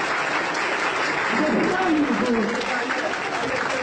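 Audience applause at a ceremony thanking a benefactor, steady dense clapping filling the whole stretch at close range, with a few raised voices mixed in.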